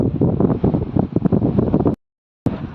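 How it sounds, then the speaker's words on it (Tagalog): Strong gusty wind buffets a microphone at a roadside bus stop in Abu Dhabi City, loud roaring bursts with a sudden silent gap before the blustering resumes. "Malakas ang hangin."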